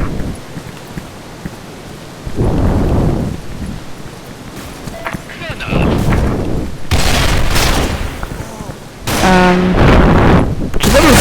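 Loud bursts of booming explosions and crackling gunfire in the video game S.K.I.L.L. Special Force 2 erupt in separate waves, with quieter gaps of rumbling noise between them.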